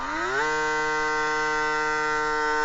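A small vacuum sealer pump on an ABOX food saver hums steadily and loudly, its pitch rising briefly at the start before settling into a constant drone.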